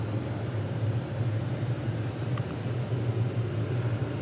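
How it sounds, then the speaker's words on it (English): A steady, low droning hum of a helicopter far off over a creek, holding an even level throughout with no voices. "Can you hear that helicopter in the background?"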